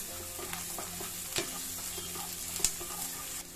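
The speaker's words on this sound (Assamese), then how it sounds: "ইয়াতে দিছোঁ অলপ জিৰা, ইয়াতে দিলোঁ পিঁয়াজ" Cumin seeds and onion fry in a pan with a constant close sizzle, while a spoon stirs and a couple of sharp metallic knocks stand out.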